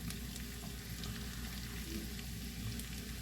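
White parts of green onion frying with garlic in a pan, giving a steady, close, dense sizzle that holds evenly throughout with no talking.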